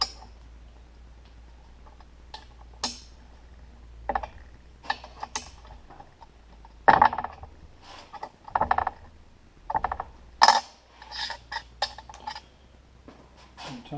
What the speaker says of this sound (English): Check all those with a wrench here.